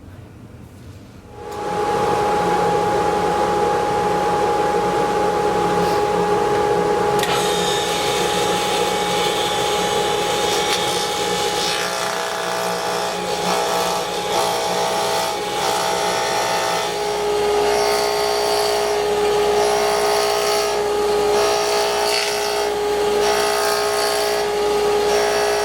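Table saw cutting wood to make crown moulding, a steady loud whirring blade drone throughout, with the tone shifting as the cut progresses over several passes.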